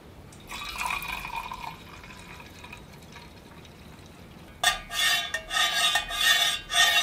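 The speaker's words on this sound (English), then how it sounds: "Let's pour out our coffee." Coffee pours from a Jetboil Flash coffee press into a cup, a short trickle followed by a pause, then a louder splashing pour in uneven bursts near the end.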